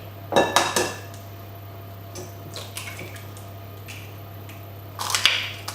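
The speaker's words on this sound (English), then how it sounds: "So mix that in together." A wooden spoon stirs egg into a yeast mixture in a bowl, giving a few sharp clinks and scrapes in short bursts near the start and end, with quiet pauses between.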